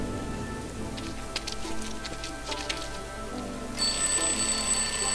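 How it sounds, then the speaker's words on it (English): A wind-up alarm clock starts ringing in the adventure game Lost Horizon, its bright, continuous metallic ring cutting in abruptly near the end over a soft, pattering background. "I'll place the alarm clock in the rubbish bin. Let's see what happens when it goes off."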